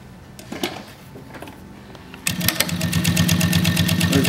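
AtlasUSA AT93 single-needle heavy-material sewing machine with a quiet servo motor: a soft whir at first, then rapid, steady stitching clatter at close range that speeds up and holds a fast even rhythm.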